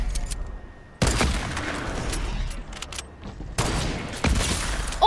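Fortnite gunfire crackles in sharp bursts, with a loud volley starting around one second, another near three and a half seconds, and a final shot at the end, over light background game noise.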